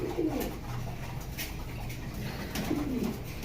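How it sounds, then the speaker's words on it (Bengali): Original Belgian-breed racing pigeons, a pair of Tiger Gizzles, give soft, throaty coos: two rolling calls near the start and end over a steady low background hum, with no talking. "কবুতরগুলো দেখেন কতটা সুন্দর, কতটা অ্যাক্টিভ"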